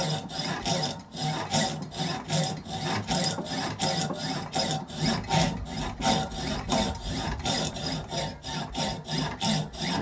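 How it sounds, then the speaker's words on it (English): A fine saw cuts pearl inlay along the outline of a design, giving fast, even rasping strokes of about two or three per second. The sound stays close and continuous throughout, with no voices. "What I'm doing here is cutting around the outline of this design."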